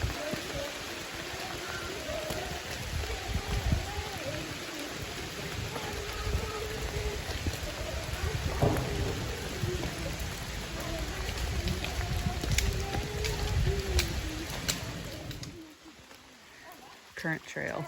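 Steady rain on the Appalachian Trail, a dense broadband hiss filling the whole stretch with scattered birdsong over it, easing into a quieter patch with a few louder drips near the end.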